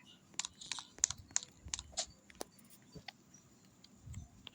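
Quick, light clicks of fingers typing on a computer keyboard, a run of irregular close taps with brief pauses, fairly quiet and without talking.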